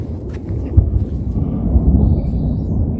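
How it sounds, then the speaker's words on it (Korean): Thunder rumbles low and heavy over a rural Korean countryside, a steady deep roll that swells slightly partway through and carries on to the end, with no voices. "천둥 친다, 가자"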